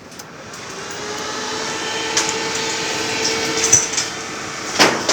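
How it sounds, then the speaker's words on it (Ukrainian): Two cooling fans inside a Titan welding inverter whir steadily at close range, a continuous airy hum with faint tonal whine that builds slightly and holds, with a few small clicks and knocks near the end. "Трошки жужить. Я не скажу, що тихо, тому що там два вентилятори."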